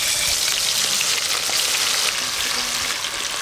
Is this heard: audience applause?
no